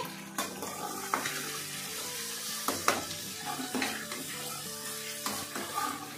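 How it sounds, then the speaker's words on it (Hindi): One kilo of mutton frying in a pot for aloo gosht, a sizzle punctuated by repeated clanks and scrapes of a metal spoon stirring against the pot, close and busy throughout. "तो अब हम इसे मटन को फ्राई कर लेंगे"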